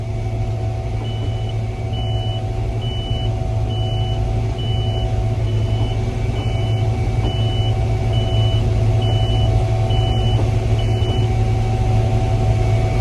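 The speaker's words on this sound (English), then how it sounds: "that beeper, that's actually my feeder house chain indicator" A combine harvester's feeder house chain indicator beeper sounds a steady series of short, evenly spaced beeps over the loud, constant drone of the machine's engine during corn harvest.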